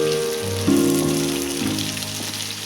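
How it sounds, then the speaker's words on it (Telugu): Bitter gourd pieces fry in hot oil for a Telugu-style fry, giving a steady, close crackling sizzle that holds for a few seconds with no talking, and a faint tonal hum sits underneath. "ఇవి బాగా దూరంగా వేగాలండి, బాగా ఆయిల్లోనే."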